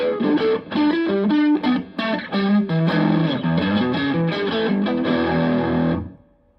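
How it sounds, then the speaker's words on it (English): A 2024 DiPinto Mach IV electric guitar is played through its single coil pickup with distortion and effects. A quick, loud run of notes and chords lasts about six seconds, then cuts off and fades. "But beautiful Strat sound"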